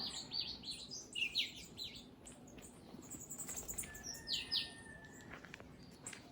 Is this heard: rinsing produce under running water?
no